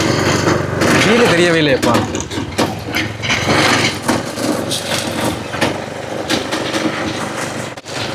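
A homemade hydraulic tipper vehicle's small engine runs close by, its uneven chugging rising and falling in revs while people talk over it.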